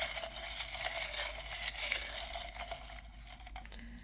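A deck of fortune cards is shuffled by hand, giving a quiet, continuous papery riffling and crinkling for a few seconds, close to the microphone with no talking.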